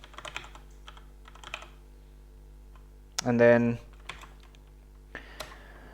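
Someone types on a computer keyboard, soft scattered clicks in small clusters, and someone speaks briefly in the middle.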